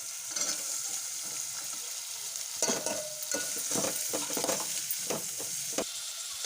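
Onions fry in a pan, a soft, fairly faint sizzle broken by several sharper scraping stirs in the second half, close by and with no voices.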